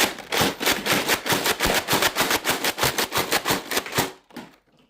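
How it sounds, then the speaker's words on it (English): A Nerf Mega Rotofury blaster slam fires darts in a rapid, even burst of about twenty loud, close thumping shots with mechanical clacks, stopping abruptly after four seconds. "Now we shall do Slam Fire with the Rotofury."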